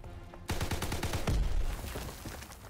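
Rapid bursts of STG assault rifle fire in the Call of Duty WWII multiplayer beta, Pointe du Hoc map, loud close-range shots in quick rhythmic succession with a heavier thump mid-burst.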